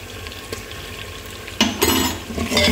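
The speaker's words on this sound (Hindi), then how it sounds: "इसे अच्छी से भून लेंगे।" Turmeric powder and crushed red chili fry in a pan, starting as a low, steady hiss that turns into louder, brighter sizzling with stirring scrapes partway through.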